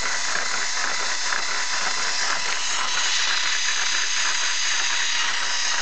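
Motorized LEGO inline-four engine model running, a steady dense mechanical whir and fine rapid ticking of small plastic gears and moving parts, close and even throughout, with no voices.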